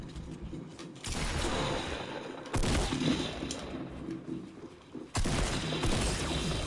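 Shotgun fire in the video game Fortnite on PS4: three loud, booming blasts about two and a half seconds apart, each trailed by mechanical clatter and rattling, with no talk.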